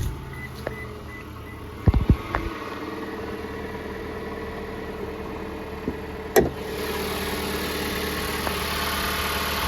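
A 2.4 litre turbocharged car engine idles steadily and close by, a low continuous hum broken by a few brief clunks and knocks, with no one talking.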